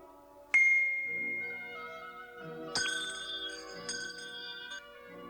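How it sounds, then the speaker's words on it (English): A bell rings out three times, each clear, bright strike followed by a ringing tone that slowly fades, heard alone in an otherwise quiet scene from a Wizard of Oz story. "A bell rang as a signal for her to go in."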